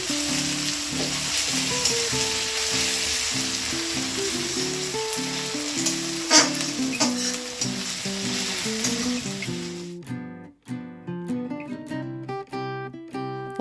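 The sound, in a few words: onions frying in a pan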